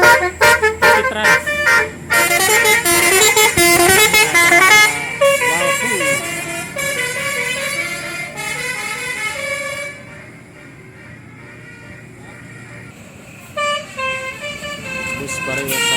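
A telolet basuri musical bus horn on an Indonesian tour bus plays loud, close, repeated melodic tooting phrases at a road bend, with staccato blasts and sustained tones, quieter traffic between phrases and voices in the background.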